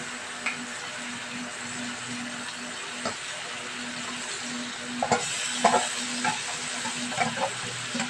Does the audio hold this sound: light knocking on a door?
no